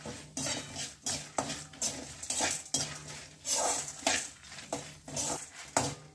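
Chana dal, urad dal and dried red chillies roasting dry in a pan, stirred with a metal spoon in repeated scraping strokes and clinks against the pan, close and fairly quiet.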